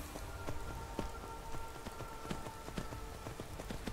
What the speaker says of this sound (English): Looks like it's gonna start raining, yep.